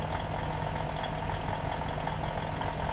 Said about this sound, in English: The powerful engine of the semi-truck roars to life, sending a puff of black exhaust into the air